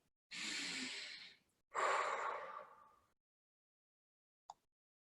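Two long, slow breaths, each a soft airy rush lasting over a second, drawn close and quiet during mindfulness practice, followed by silence and a faint short click.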